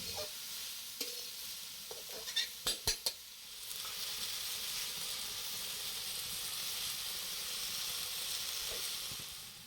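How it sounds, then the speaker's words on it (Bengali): Vegetables with ridge gourd, salt and turmeric frying in a wok, a few sharp metallic knocks early on, then a soft, steady sizzle and hiss that continues quietly to the end. "ভাজার সময় এগুলিকেও কড়াইয়ে দিয়ে দেওয়া হবে।"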